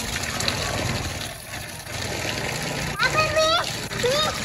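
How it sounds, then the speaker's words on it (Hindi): Water gushes and splashes steadily onto garden plants, including a chikoo tree and a neem tree, with a voice and other voices chattering over the pouring. "चलो यार थोड़ा पौधा में डालें पानी।"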